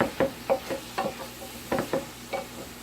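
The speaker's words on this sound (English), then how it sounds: "we've got our onions, our peppers, our garlic, and our squash browning up with the meat" Onions, peppers, garlic and squash browning with meat in a skillet sizzle steadily while a utensil scrapes and stirs in a quick, irregular rhythm of close scuffs, with no talking.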